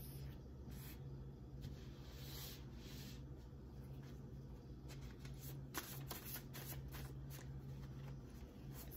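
A deck of tarot cards is shuffled close by for several seconds, a soft continuous riffling and rubbing of card stock at low volume over a faint steady hum.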